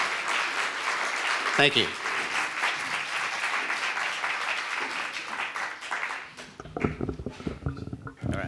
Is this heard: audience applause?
yes